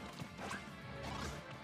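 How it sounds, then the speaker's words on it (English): Powerful electric forward smash attacks land in an Amiibo match of Super Smash Bros., a short burst of crackling, crashing impact noise with whooshing energy, fairly quiet and steady throughout. "The F smashes, the powerful electric F smashes."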